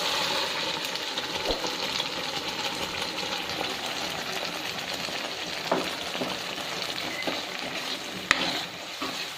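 Tomato onion paste fries in hot oil in a pan for a cashew paneer curry, giving a steady, moderate sizzle with occasional clicks of a spoon, no talking.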